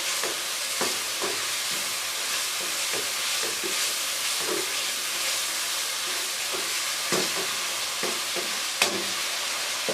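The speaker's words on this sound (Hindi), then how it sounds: "अब हम गाजर को थोड़ी देर फ्राई करेंगे ताकि गाजर गल जाए।" Carrots for chana pulao sizzle steadily in a hot pan, with a spoon scraping and stirring at irregular intervals over the constant frying hiss, close and alone.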